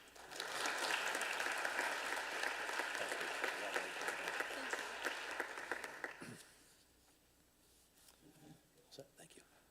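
Audience applause for artists at a Berlin Board of Education meeting, a dense sustained burst of clapping filling the room for about six seconds, then dropping abruptly to scattered faint claps and room murmur.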